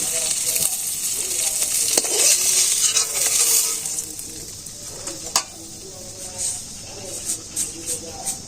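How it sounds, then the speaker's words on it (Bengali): Black cumin seeds are tempered in hot oil in a Bangladeshi village kitchen, sizzling in a loud, continuous hiss with a few spoon scrapes and clinks as the sputter gradually eases; a voice speaks faintly underneath. "কালি জিরা ফোড়ন দিলাম"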